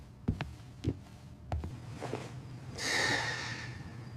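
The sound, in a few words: snoring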